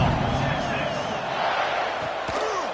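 Stadium crowd roaring steadily in College Football 26 during Georgia at Texas, a broad continuous wash with a commentator's voice on top.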